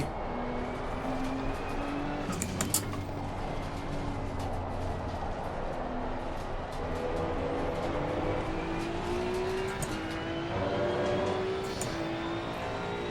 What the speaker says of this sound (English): nice sounding car as well